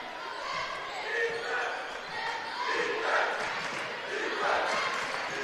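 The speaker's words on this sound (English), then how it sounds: "Crowd comes alive with a defense chant." A high school boys basketball crowd in a gym breaks into a defense chant, a steady swelling roar of many voices in the distance with rhythmic rises, continuing throughout.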